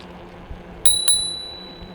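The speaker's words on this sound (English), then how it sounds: "And the bell works." Two quick rings of the bell on a HITWAY BK6S folding electric bike close by, the second ring fading out over about a second against quiet background.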